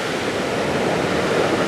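Cheonjeyeon Waterfalls on Jeju, Korea: a steady, dense rush of falling water, an unbroken broadband roar that holds even and close throughout, with no voices.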